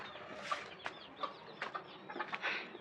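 A chicken indoors gives soft, faint clucks, several short bursts scattered irregularly over a quiet background.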